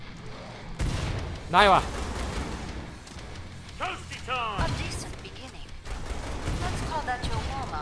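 Rapid bursts of gunfire from the Killing Floor 2 video game crack out in several clusters, loud and close, mixed with in-game effects and a brief spoken exclamation.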